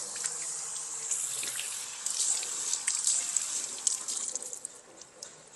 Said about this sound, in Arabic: لا تسد الحنفية ولا تفك الحنفية، دوس كبسة واحدة